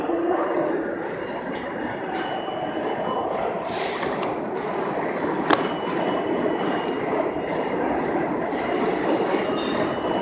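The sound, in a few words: subway station ambience with trains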